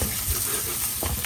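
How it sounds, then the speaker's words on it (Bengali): Eggs coated with a little food colour frying in a pan, a dense close crackling sizzle with a faint stir near the end, with no talk. "আমি ডিমগুলোকে এইভাবে ভেজে নিব।"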